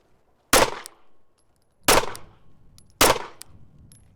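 A Glock 43 handgun fires three loud, close shots at 7 yards, spaced roughly a second apart, each sharp crack followed by a brief ringing decay.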